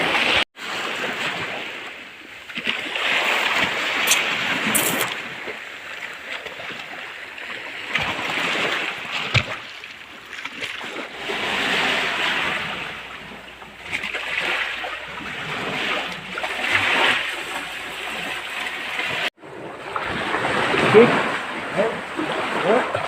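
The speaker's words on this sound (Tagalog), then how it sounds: "So ayan po yung view ng dagat." Sea waves wash steadily onto a beach during a seaside grilled fresh fish meal, a continuous loud rushing surge that swells and fades in long cycles with wind buffeting the microphone.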